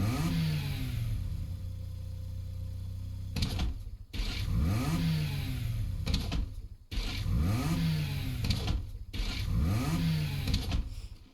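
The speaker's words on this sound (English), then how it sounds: "I might as well show you the horn sound and the engine startup sounds as well." A Breakout X car in Fortnite starts up and revs repeatedly, four rising engine bursts with short gaps, loud and close with a sporty supercar-like tone over a steady idle.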